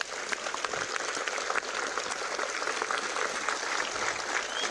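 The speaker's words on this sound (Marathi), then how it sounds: "एकदा तुम्हाला सर्वांसाठी शिवभक्तांसाठी जोरात टाळी आवाज द्या" A large crowd of devotees claps loudly and continuously at the Shivrajyabhishek coronation celebration at Raigad fort, a dense and steady roar of applause.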